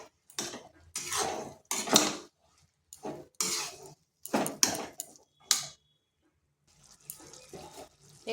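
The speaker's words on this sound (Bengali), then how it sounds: "এরপর এখানে দিয়ে দিচ্ছি গ্রেড করে রাখা ঝিঙ্গাগুলো। ভালোভাবে মিশিয়ে নিচ্ছি।" Grated ridge gourd being stirred in a pan, several distinct wet scraping and clattering bursts of the spatula against metal, separated by brief pauses, close and alone.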